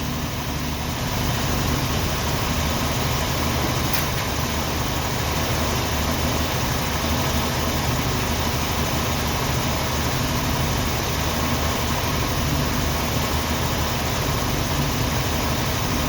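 A 1990 Jeep Wrangler engine idles at a fast idle, a loud, steady, unbroken rumble and hiss held close throughout with no pauses and no voices.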